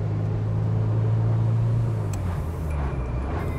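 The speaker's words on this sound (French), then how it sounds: "Et là tout de suite on entend chanter le V8 avec les échappements inox" A 1989 Ferrari 328 GTS V8 with stainless steel exhausts runs steadily, its deep, smooth engine note loud and continuous, with the pitch shifting slightly partway through.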